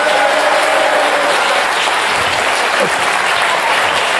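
A TV studio audience gives loud, steady applause for a guest, a dense and continuous wash of clapping with faint voices underneath.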